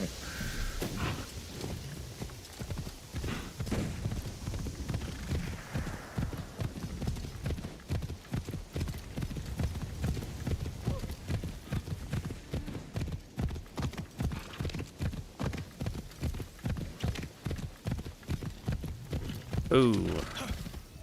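Horse hooves clip-clop in a steady, fast rhythm in Assassin's Creed Shadows on Xbox Series X, close and continuous over a low background rumble, with a brief brighter sound near the end.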